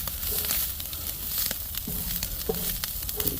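Chopped beef and provolone cheese sizzle and fry steadily on a hot griddle for a chopped cheese sandwich, with soft crackling and a few light scraping touches throughout.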